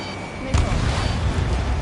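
A missile launching from a fighter jet in Ace Combat 7: after a low engine rumble, a sudden loud whoosh breaks in midway and holds as a roaring, rushing burst, close and with no talk.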